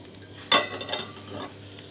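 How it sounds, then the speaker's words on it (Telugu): A lid set down on a paniyaram pan of frying gundu punugulu gives one sharp metallic clank, followed by a few lighter clinks over a faint background sizzle. "మూత పెట్టేసుకుందాం."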